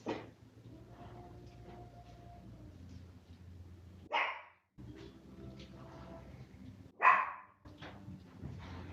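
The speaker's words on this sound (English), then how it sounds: "And my dog, I'm not quite sure why she's barking this time." A pet dog barks indoors during a live home yoga class, giving a few sharp, fairly loud barks spaced seconds apart over a low background hum, with no talking.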